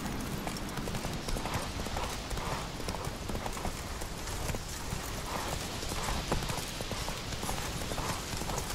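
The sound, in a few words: horse Roach galloping in The Witcher 3 video game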